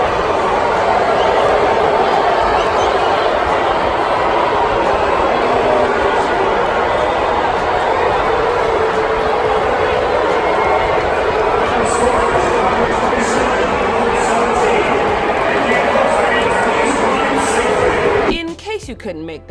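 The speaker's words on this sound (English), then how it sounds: "you hear Colts fans booing Andrew Luck after he took to the podium" A large crowd of American football fans in a stadium roars in a continuous wash of boos and jeers, loud and unbroken, before cutting off abruptly near the end.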